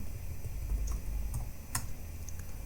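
A few faint, sparse keystrokes tap on a computer keyboard as a password is entered during an Arch Linux setup. The clicks are quiet and isolated over a low steady hum.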